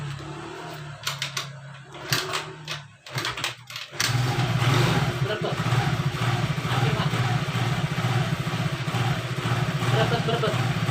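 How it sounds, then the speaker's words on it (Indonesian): A motorcycle with a new battery catches after several sputtering tries, then runs on at a rough idle that holds loud and fairly steady without clear surges. Someone talks over the engine. "ngendal tuh, digas naik turun. Gas tinggi naik turun."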